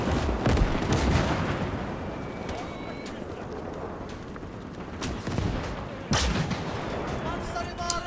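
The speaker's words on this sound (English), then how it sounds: "They are taking some pretty hard hits from the flak guns." Flak 88 anti-aircraft guns in the Gates of Hell war game fire in repeated heavy booms over a dense, rumbling battle soundscape, with sharp loud blasts near the start, middle and around six seconds.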